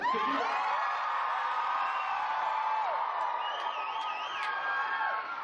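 A large audience of fans screaming and cheering as a band takes the stage at a children's storytelling event, with a steady wash of high shrieks and whoops that holds loud throughout.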